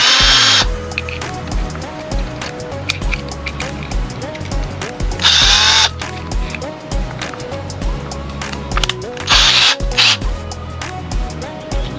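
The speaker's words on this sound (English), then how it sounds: "Go and put the screws in, make sure they go in" Screws driven into a DIY custom Ring camera housing with a power driver, with several loud whirring bursts and ratcheting rattles close up over a steady background, while someone talks throughout.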